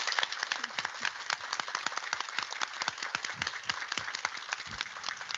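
Warm applause from an audience on Earth, quiet but steady clapping from a modest crowd heard for several seconds without speech.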